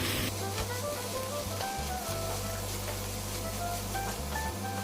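Moringa leaf stir-fry with grated coconut and cumin powder sizzles steadily in a pan while a spatula stirs and scrapes through it in close, uneven strokes.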